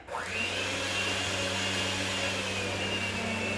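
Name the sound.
electric mixer mixing peanut butter cookie batter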